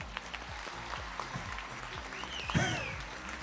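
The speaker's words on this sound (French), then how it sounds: "On peut l'applaudir bien fort." Faint, scattered clapping from an audience at the Reine du Muguet election in Compiègne, with claps heard singly and in short clusters and a brief high whistle-like sweep near the end.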